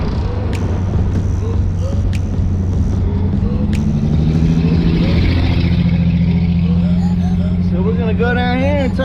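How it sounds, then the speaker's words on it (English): A truck drives past a pulled-over 2021 Polaris Ranger UTV, its engine rumbling and growing louder close by over a steady low idle hum, with a short rising whine near the end. "So I'm gonna pull over here and let this truck go by me."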